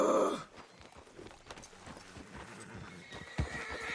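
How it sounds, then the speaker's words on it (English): A horse in a video game race whinnies loudly at the start, then its hooves clip-clop in a steady, fairly close rhythm over a low rumble of background game sound. "Damn horse acting up on me."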